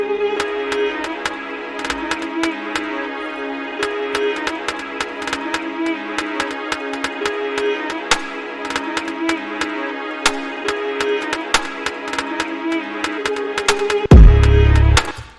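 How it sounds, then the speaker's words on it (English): Electronic music build-up with sparse rim clicks at first and a snare joining later, steady crisp hits over sustained synth tones, ending in a sudden loud low-end burst as the drop arrives. "I would recommend you add some drums coming in like halfway through, like maybe just having the rim first and the snare coming in after"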